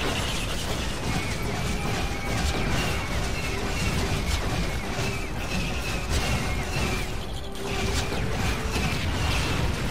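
Dense mechanical clanking, ratcheting and crashing from a destruction machine in LEGO Star Wars III, loud and continuous with gear-like clatter and occasional impacts throughout.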